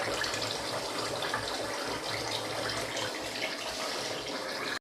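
Water runs and splashes over rice being washed in a pot, a continuous close wash of trickling and sloshing that holds steady throughout with no speech.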